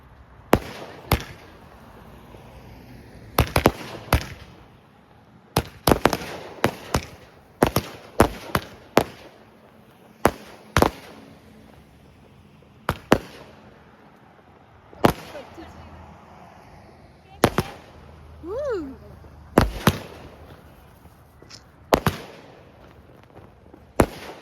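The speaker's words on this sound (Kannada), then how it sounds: "ನಮ್ಮ ಪಟಾಕಿ ಡಮ್ ಡಮ್ ಡಮ್ ಅಂತಿದೆ." Firecrackers burst at a birthday celebration, a long irregular series of sharp loud bangs, some in quick pairs, separated by quieter gaps with faint background voices.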